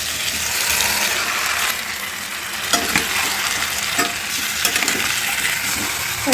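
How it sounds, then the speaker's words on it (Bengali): Marinated chicken sizzles in a hot pan with turmeric, a dense, steady frying hiss close by, broken by scraping stirs and clicks of a spoon against the pan. "এবার এর মধ্যে ম্যারিনেট করা চিকেনটা আমি দিয়ে দেবো"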